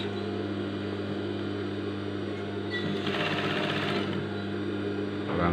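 Sewing machine running steadily while stitching a princess seam in fabric, a continuous close whirring drone that grows briefly brighter and busier partway through, alone with no voices.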